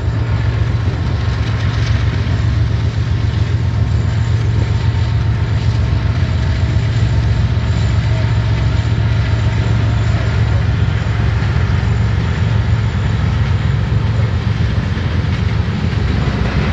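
An eastbound freight train rumbles past in Ohio, a loud continuous roar of rolling wagons with steady low grinding that stays close and strong throughout, with no talk.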